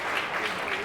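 Brief, dense applause from an Indonesian crowd cheering a performer, steady and fairly close throughout the short burst, with no speech over it.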